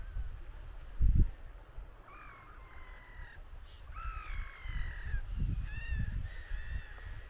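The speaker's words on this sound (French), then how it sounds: "Et vos gueules, les mouettes." Gulls call in a series of harsh, rising cries over steady outdoor background noise at a seaside campsite in Châtelaillon-Plage, with a dull thump early on.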